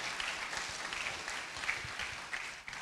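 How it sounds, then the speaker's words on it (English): Audience applause at the Asantehene art awards, a soft, distant patter of many hands clapping that continues for a few seconds. "And I think that deserves a round of applause for what the King has been really doing."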